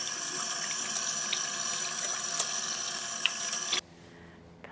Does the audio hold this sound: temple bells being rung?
no